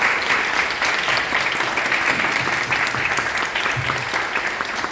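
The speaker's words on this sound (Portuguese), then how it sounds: "a quem peço a salva de palmas" Applause from an audience at a formal tribute ceremony for a judge, a steady dense clatter of many hands that holds at an even loudness for the whole stretch, with no voices over it.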